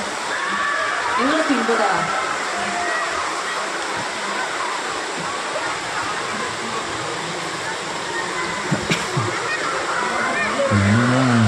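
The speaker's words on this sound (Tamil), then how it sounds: "தண்ணி நல்லா போயிட்டு பாருங்க." Hill stream water at Thirumoorthi Hills rushes continuously in a dense, close roar, with faint voices and a brief splash showing through near the end.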